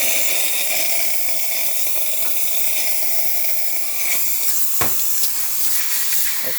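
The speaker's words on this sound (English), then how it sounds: "excellent steam coming out of the machine" A Gaggia espresso machine's steam wand releases a steady, loud hiss of pressurized steam that runs continuously throughout, with a brief sharper burst partway through.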